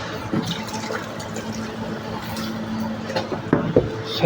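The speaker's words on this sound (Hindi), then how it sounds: "अब इसका पानी निकालते हैं" Water drains from an outdoor molly fish breeding tank through a pipe, a steady close trickling and gurgling that runs throughout, with a few louder splashes near the end.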